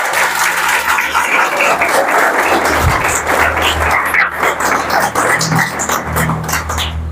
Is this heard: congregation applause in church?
yes